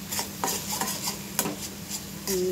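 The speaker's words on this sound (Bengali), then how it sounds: "এবারে মশলাটা ভালো করে কষিয়ে নেব," A spice mixture with cumin and coriander powder is stirred and fried in a pan, with repeated close scraping and rubbing strokes of a spoon, a faint sizzle underneath and a light metallic clink near the end.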